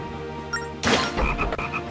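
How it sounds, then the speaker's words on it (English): A frog croaking on an island in Zelda Phantom Hourglass, a cluster of short rapid croaks following a soft ambient bed, close and clear with no talk. "It's a frog."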